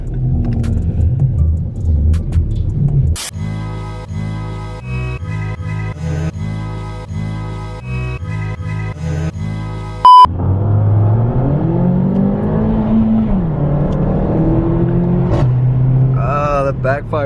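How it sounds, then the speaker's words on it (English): A tuned Ford Mustang 5.0 engine revs and backfires, its loud steady rumble cut by a sharp pop before the note shifts to a rising drone, with people talking over it. "that backfire is nasty"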